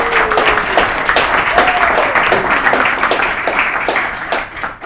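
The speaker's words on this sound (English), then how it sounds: "let's give them a very big round of applause" Sustained applause from an audience, a dense wash of many hands clapping steadily throughout, fairly loud and close.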